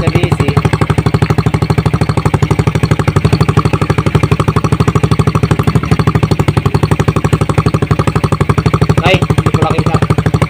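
A motorcycle engine with a freshly rewired stator and regulator rectifier idles nearby in a loud, fast, even pulsing putter, with a brief spoken remark over it.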